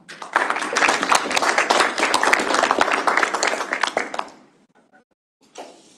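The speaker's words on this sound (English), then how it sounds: "We'll give him a round of applause" Audience at an MLOps and AI meetup gives a speaker a round of applause, a dense, loud burst of many hands clapping for about four seconds that stops abruptly, followed by a brief faint noise.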